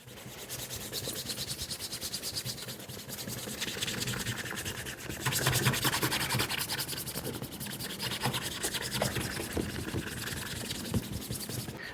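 Shoe product is rubbed into a leather shoe in a steady, close scrubbing rasp that keeps going without a break and grows a little louder midway, with no voices.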